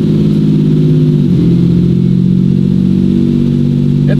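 A throttled Toyota 2JZ engine running steadily and loud, holding a droning hum that dips and settles at one point as the automatic transmission shifts up, heard close throughout with no voices.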